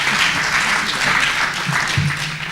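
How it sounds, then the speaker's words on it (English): Applause for the speakers at the close of a debate, a loud, continuous patter of clapping from the audience with faint low murmurs beneath. "invite you to give the speakers today a round of applause."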